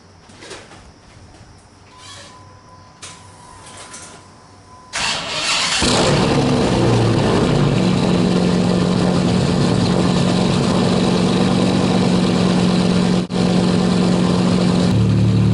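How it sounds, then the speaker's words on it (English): A quiet driveway with faint birdsong gives way to a 2004 Dodge Ram SRT10 cranking and firing up, its engine catching abruptly and then settling into a loud, steady, close idle for the remaining seconds. "we are about to start her up and pull her out in the driveway"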